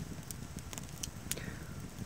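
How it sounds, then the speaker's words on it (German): A campfire burns near a shelter at night, giving faint scattered crackles and a few sharp pops over a low steady rumble, with no voices. "werde noch ein bisschen das Feuer genießen"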